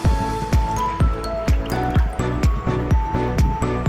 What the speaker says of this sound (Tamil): இதை வந்து இப்போ நம்ம ஆயில் கூட கொஞ்சம் கொஞ்சமாக சேர்த்து மிக்ஸ் பண்ண போகிறோம்.